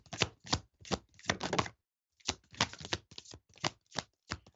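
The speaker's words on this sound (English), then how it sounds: "I'm just shuffling the cards." Tarot cards being shuffled by hand in a series of crisp, close riffling bursts with a short pause in the middle, quiet and alone without talk.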